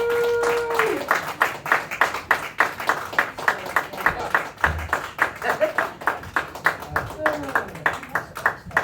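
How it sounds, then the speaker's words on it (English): A comedy club audience at the Joke Joint gives a set a round of applause, with steady, rhythmic, loud clapping that settles into an even beat. A brief sustained tone and faint voices sit under it. "Round of applause."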